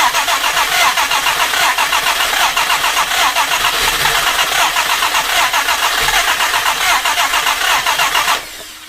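A Jaguar E-Type 2+2 engine cranks with a rapid, rough, pulsing churn for several seconds, loud and close, then cuts off abruptly.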